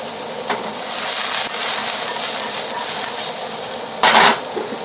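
Frozen green peas sautéing in a hot pan for fried rice, producing a constant bright hissing sizzle with a few soft stirring knocks and a louder burst of scraping near the end.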